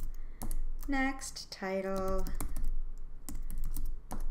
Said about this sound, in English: I can start typing, hit the tab key to get to the next field